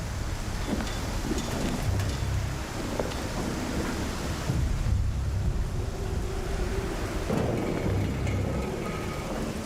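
Thunder after a lightning strike on a building in the Star Citizen video game, heard as deep low rumbles rolling under steady heavy rain and wind, with swells around two, five and nine seconds.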